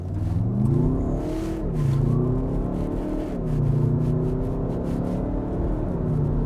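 A 2019 Skoda Kodiaq 2.0 SUV with traction control off accelerates hard from a standstill to 60, its engine revving and climbing through several gears, the roar rising and dropping with each shift, loud and close.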